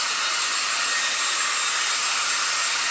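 Hair dryer blowing on wet paint of an abstract painting, a loud, steady, close whooshing motor drone that runs unbroken throughout.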